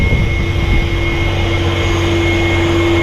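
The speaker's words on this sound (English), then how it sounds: "work supervisor's got his drone out" A work supervisor's drone flies around over an oilfield holding tank site, giving a steady, droning whir with a constant high whine that holds level throughout, close and loud with no talk.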